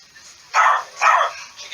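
Dogs in a house, fixated on the garden outside, give two sharp barks about half a second apart, then a softer start of a third. The barks sound mid-distance against near silence.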